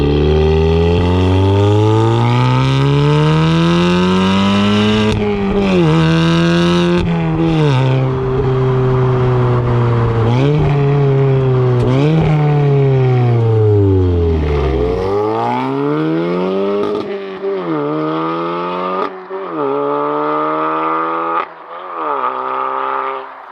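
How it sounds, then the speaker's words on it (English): A manual Toyota GT86 engine revs loudly and close up through a run of downshifts and upshifts, its pitch climbing and falling repeatedly with sharp blips between gears, heard alone without talk. "just listen to these downshifts, okay? And on the upshifts."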